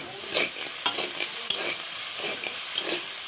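Beans and potatoes frying in a pan at a village kitchen, with a steady sizzle under repeated scraping stirs of a utensil, close and moderately loud, no voices.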